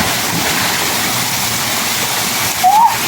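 Steady broadband rush of a waterfall pouring into a natural spring pool on a Utah hike, loud and continuous throughout, with a brief rising whistle-like sound near the end.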